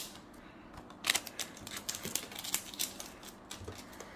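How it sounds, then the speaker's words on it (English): Tape peeled off a Teenage Mutant Ninja Turtles: Shredder's Revenge Classic edition game box, a run of close, sharp crackling rips and crinkles in irregular bursts, with no talk. "Let's get the tape off"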